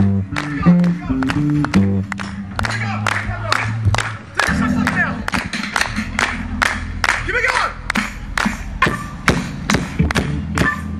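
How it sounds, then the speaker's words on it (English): Audience at a live show clapping in a steady, even rhythm, sharp hand claps repeating about twice a second over a bed of low music and voices. "So keep your hands going. Keep your hands going."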